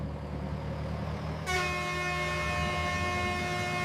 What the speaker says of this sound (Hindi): फिर से वही हॉर्न।